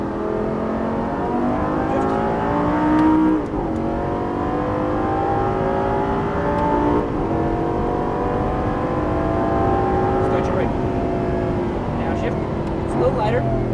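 A Lamborghini Gallardo Superleggera LP570-4 drives on a race track, its engine a loud, continuous high-revving roar that rises and falls with gear changes, while a voice talks over it.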